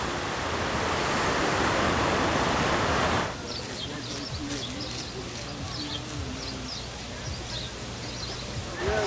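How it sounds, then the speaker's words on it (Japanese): Ocean surf breaking along a black lava rock coast on Hawaii Island, a steady broadband wash that is loud at first and then settles into a softer, continuous rush with faint higher chirps over it. "この波の高さ、 音もちょうどいいな。"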